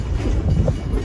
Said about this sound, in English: I love the sound of the train going on the track